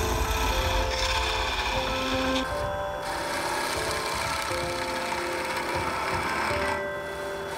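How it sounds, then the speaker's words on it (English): A turned wood piece is sanded on a lathe, giving a continuous close rubbing hiss over a low motor hum, with no talking. "I'm going to sand it back a little bit"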